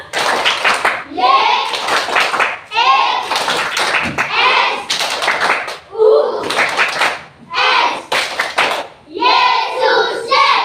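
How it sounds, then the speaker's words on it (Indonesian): Groups of teachers and students clap hands together in a classroom, a series of bursts of rhythmic clapping mixed with cheerful chanted voices, loud and close, broken by short pauses between rounds. "Tepuk tangan dulu, tepuk tangan"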